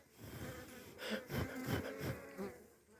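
Honeybees swarm and drone around an open beehive as it is worked on, a steady close buzz with individual bees swelling louder as they pass near.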